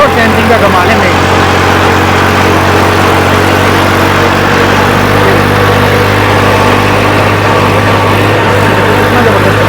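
Massey tractor engine working hard while pulling a cultivator through firm farm soil, a steady loud drone with a constant low hum throughout, close by and continuous.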